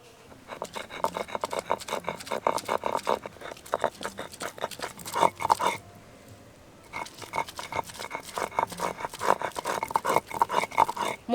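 Boiled banana flower being ground into paste on a stone, rapid rhythmic scraping strokes close by in two bursts separated by a short pause, with no talking.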